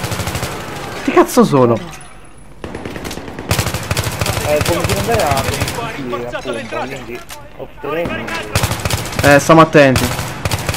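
Rapid automatic gunfire bursts from a Battlefield 3 co-op campaign mission, loud and repeated in clustered volleys, heard alongside excited voices talking throughout.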